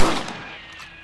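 A single loud rifle shot in Red Dead Redemption, a sharp close crack followed by a decaying echo that fades over about a second.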